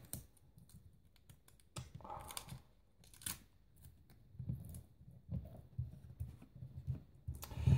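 Adhesive tape pulled and torn from a roll in short crackly bursts while making an Audi logo sticker, with light handling clicks in between, close up and without talking.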